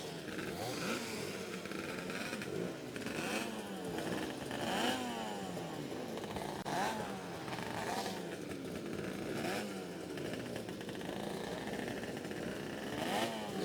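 Historic racing kart engines at the 2019 SuperPrix demonstration at Shenington start up and rev, several rear-mounted engines buzzing and rising and falling in pitch, with repeated loud revving surges.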